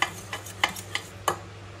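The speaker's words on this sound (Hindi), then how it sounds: "इसको मैं बहुत अच्छे से पहले फेंट लूंगी, जितना ज़्यादा अच्छे से फेटेंगे ना तो कड़ी फटती नहीं है" Yogurt being whisked for kadhi in a bowl, with a few sharp clicking strokes spaced out irregularly over a low steady background hum, close and fairly soft.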